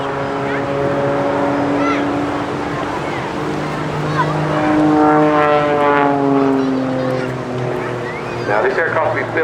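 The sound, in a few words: Jet Pitts S2S aerobatic aircraft flying at airshow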